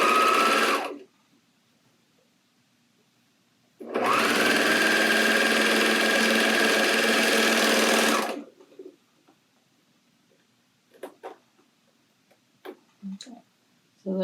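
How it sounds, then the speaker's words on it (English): A serger overlocks the edge of a dress hem in a sewing room, running in one loud, steady burst of about four seconds after a brief start, followed by a few soft clicks and handling sounds. "we're just going to go ahead and take that edge of the hem and we're just going to run it through our serger"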